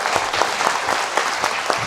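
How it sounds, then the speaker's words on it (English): Audience at a live Gettysburg history quiz event clapping steadily for a contestant, a dense, continuous burst of applause with no talking over it. "big round of applause for Timmy once again"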